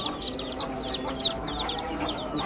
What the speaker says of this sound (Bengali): গতকালকে আমাদের মুরগিগুলো বাচ্চা দিয়েছে এখন বাচ্চাগুলোকে আমরা খাবার দেব